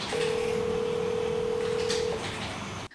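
An unanswered telephone call: a steady dial or ringback tone runs for about two seconds over faint background noise, then cuts off, with no voices.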